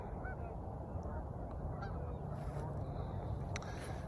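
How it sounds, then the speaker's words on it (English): Distant geese honk in scattered calls over a constant low outdoor rumble, faint and spread across the open air. "geese,"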